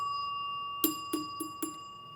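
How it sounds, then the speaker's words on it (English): Score bells on a Williams Solids N' Stripes pinball machine, four sharp metallic dings in a quick, slightly uneven sequence over a steady electrical hum, close and clear with no talking. "these 2 bells sound about the same"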